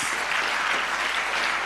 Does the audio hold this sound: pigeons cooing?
no